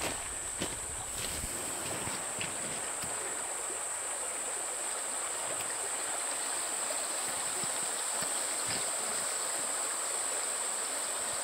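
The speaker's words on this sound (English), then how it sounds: "That's the biggest creek crossing." Steady rushing water flows continuously, a broad hiss of a creek running nearby, with a faint high-pitched tone above it and no voices.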